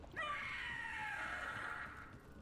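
A Gloomhowler monster in Dragon Age: The Veilguard lets out a single drawn-out, shrill scream lasting about two seconds, loud and close, with a wavering, tonal cry that slowly fades.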